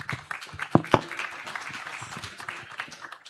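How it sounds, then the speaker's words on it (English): Audience at a live-streamed event gives a round of applause, steady crowd clapping with a couple of sharper nearby claps standing out early, the wash of hands continuing at moderate volume throughout. "Please, a round of applause."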